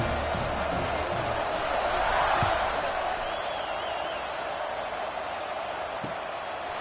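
Football stadium crowd in a video game sends up a steady, broad wash of cheering and roar with a faint thud or two, under ongoing commentary talk.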